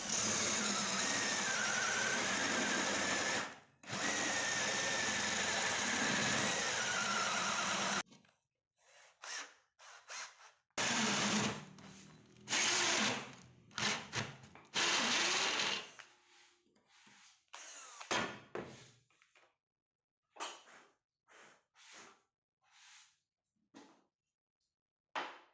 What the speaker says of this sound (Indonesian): nanti itu kita bor dengan mata bor aluminium seperti ini